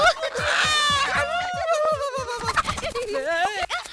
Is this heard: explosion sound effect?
no